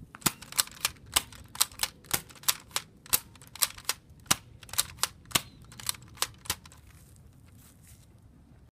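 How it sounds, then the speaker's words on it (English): Nerf Maverick toy blaster firing whistler darts, a rapid series of sharp, close snaps in fairly regular rhythm that thin out and stop near the end. "Now we're going to do the whistler dots in the non-modified gun."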